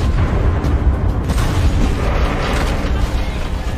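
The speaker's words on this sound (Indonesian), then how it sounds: "2 mobil pasukan cepat tanggap yang terus melaju kembali terjebak dan meledak saat" Military rapid-response vehicles detonate in a minefield in a war film, producing loud, heavy booming blasts that rumble on continuously with deep low-end roar.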